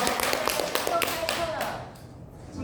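Church congregation applauding after a Sunday service announcement, a brief burst of many hands clapping that fades out after about two seconds, with voices in the room.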